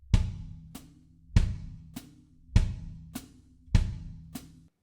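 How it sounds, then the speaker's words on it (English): Drum kit foot ostinato: a booming kick on each beat alternates with a crisp hi-hat foot chick on the offbeats, a steady even pulse repeated four times, close and alone. "we're going to play our hi-hat foot on the offbeats"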